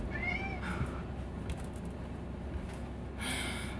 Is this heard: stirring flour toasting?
no